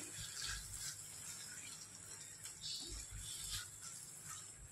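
A quarter glass of water is poured into a cooking pot of chicken kheema, a faint, continuous watery rush with soft splashing pulses, heard alone without talking.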